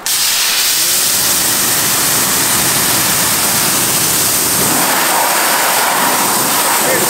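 Water spray hisses steadily and loudly against a car wheel throughout, a continuous broadband rush close up with no clear pauses.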